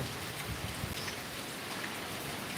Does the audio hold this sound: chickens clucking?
no